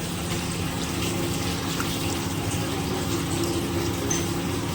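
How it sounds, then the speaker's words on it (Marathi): Hot water pours steadily into a pot in one continuous, even stream, close by, with no talking. "आता याच्यामध्ये मी पाणी ॲड करते"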